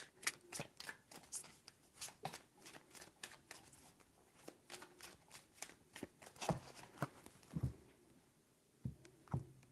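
Tarot cards are shuffled by hand three times in quick succession, each round a crisp run of close papery riffles and slaps with short pauses between.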